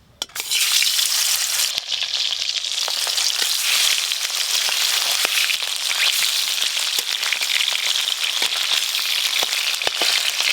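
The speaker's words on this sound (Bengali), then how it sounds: "এবার শাপলা পাতা মাছগুলো ভাজা করব" Pieces of stingray fish frying in a generous amount of oil, a loud continuous sizzle with scattered crackles and pops throughout, no voices.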